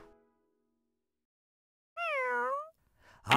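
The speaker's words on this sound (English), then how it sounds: "It's a cat, it's a cat, it's a cat." A cartoon cat meows once in a long, clear, falling call lasting under a second, loud and close, after near silence, with a brief faint sound just after.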